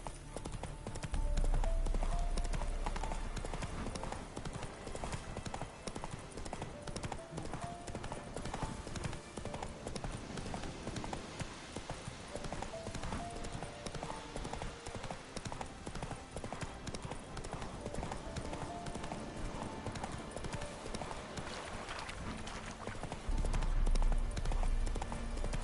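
Horse hooves clip-clop steadily at a gallop through the whole stretch in The Witcher 3, a continuous rhythmic beat up close with a brief whinny and occasional voices over it.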